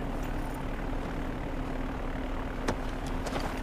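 Airplane at an airport in Far Cry 4, preparing to take off, giving a steady broadband engine drone with a constant low hum, loud and continuous, with a couple of brief clicks near the end.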